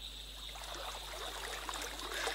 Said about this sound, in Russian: представить себе, что этот ручей разговаривает весело, задорно.